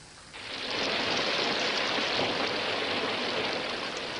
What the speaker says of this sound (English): Then it started to rain. It rained, and it rained.